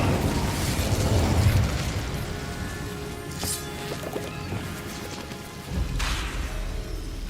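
Confringo and Incendio spell blasts in Hogwarts Legacy thump and crackle over a busy, steady rumble, with a sharper pop partway through and another burst near the end.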